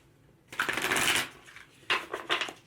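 A tarot deck is shuffled in a long riffling run followed by a shorter, choppier burst of cards, heard up close with no talking.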